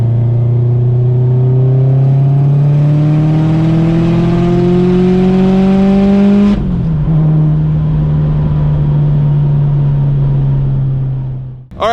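An 800 hp Subaru STi running 50 psi of boost launches hard, its engine note climbing loud and close before a gear change drops the pitch, then revving on and cutting off abruptly.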